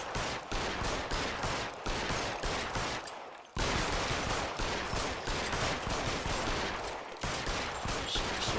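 Gunshots in the L.A. Noire video game come as loud, steady bursts of rapid fire that repeat over several seconds, broken by one brief pause midway.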